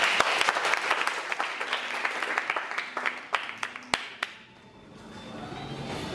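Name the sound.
applause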